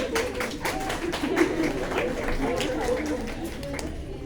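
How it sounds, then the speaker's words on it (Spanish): A university physiology class applauds at the end of a lecture. Scattered claps mingle with student chatter and shuffling, moderately loud and sustained. "Aplaude."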